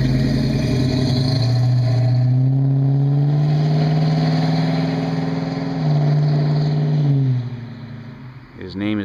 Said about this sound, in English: we just thought we'd show how awesome it is and what it sounds like. 73 Mach 1 in gold with a 351 Cobra Jet.